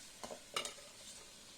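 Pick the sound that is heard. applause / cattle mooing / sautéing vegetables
sautéing vegetables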